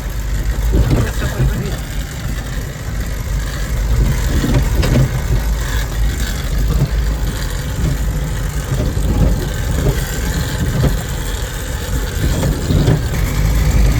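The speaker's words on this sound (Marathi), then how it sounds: "आता निघालो आहे गाडी भरून." A loaded goods vehicle heading off with its engine running, a loud continuous mid-pitched motor drone with slight revving swells, close by and steady throughout.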